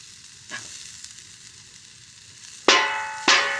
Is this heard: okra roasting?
yes